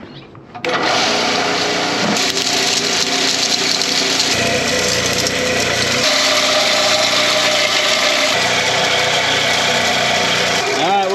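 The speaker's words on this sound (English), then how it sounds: "we're gonna run everything through the mill" A small mill grinds limonite ore while gold prospecting, a loud, steady mechanical whir and rumble that starts abruptly and runs continuously, with a faint grinding rattle throughout.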